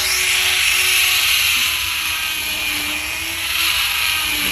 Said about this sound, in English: Sorry about all the Dremel noise, but it can't be avoided.